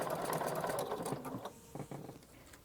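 A sewing machine fitted with a braiding foot stitches trim with string or rope laid along the top. It gives a loud, steady mechanical whir that stops partway, followed by a couple of short stitching bursts.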